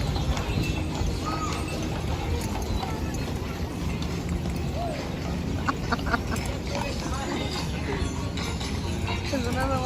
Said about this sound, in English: Oh, so many horses.